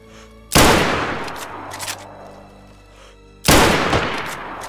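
Two sharp gunshots in the survival video game DayZ, one near the start and another about three seconds later, each loud with a ringing tail and low ambient background between them.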